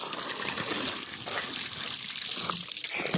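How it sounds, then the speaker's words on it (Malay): Water gushes steadily from a newly drilled, 172-foot-deep pumped well, a continuous loud hissing splash heard close up with no talk over it. "Ni air dia."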